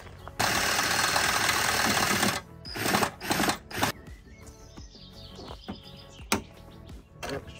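Power drill boring out a one-way cable fitting on a Scania truck, a loud whirring burst lasting about two seconds, followed by shorter intermittent drill runs and clanks.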